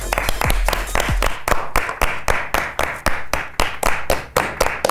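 A small group claps in a studio-style setting, steady rhythmic claps building into a regular beat with little talk underneath.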